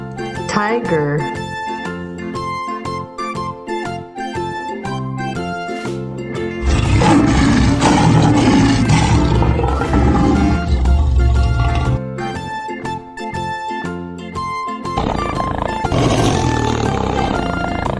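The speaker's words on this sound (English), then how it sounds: "Tiger." A tiger roars in a loud, rough, sustained burst lasting several seconds, set over continuous upbeat background music that plays before and after it.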